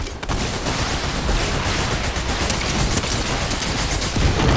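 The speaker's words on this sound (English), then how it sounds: "that's the one I'm shooting at" Steady, dense gunfire in a shooting video game, with continuous crackling shots that hold at a constant loud level for the whole stretch.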